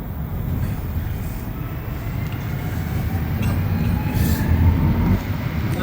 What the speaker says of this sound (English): this is not the last train of the night, by the way, on the green line going towards Angrignon